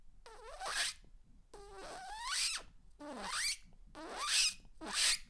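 A beatboxer's mouth imitates a zipper: five quick rising, whistly zips made by drawing breath in, each about half a second, repeated in a steady rhythm, close and fairly loud, with no talk.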